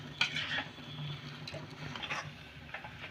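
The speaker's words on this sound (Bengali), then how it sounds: "এখন আমি আলু আর মশলাটাকে খুব ভালো করে মিশিয়ে নেব।" Boiled potatoes being mixed with spices by hand for a burger filling, giving soft, close squelching and patting sounds with faint scrapes, continuous and unhurried.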